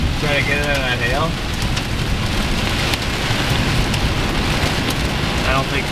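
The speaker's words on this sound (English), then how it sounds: "we're still getting some hail" Dense, steady patter of hail and rain pounding surfaces during a storm in Missouri, constant and close, with voices talking briefly over it.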